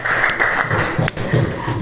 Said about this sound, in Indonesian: Beri tepuk tangan untuk Mas Nizar.